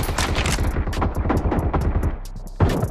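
Win94 rifle fire in a team deathmatch shooter game: a loud, close burst of many rapid gunshots overlapping in quick succession, a brief lull, then another sharp shot.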